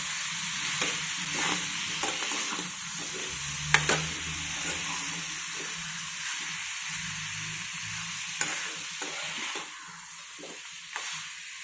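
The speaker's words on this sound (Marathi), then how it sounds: "हे सर्व पुन्हा आता मिक्स करून घेऊयात." Bitter gourd pieces with jaggery and sugar being stirred in a pan: a soft, continuous sizzle under repeated spoon scrapes and occasional sharper knocks against the pan, with no talking.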